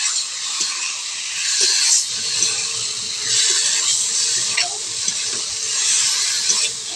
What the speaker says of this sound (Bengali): সর্ষে বাটা দিয়ে নাড়িয়ে নিয়ে দিচ্ছি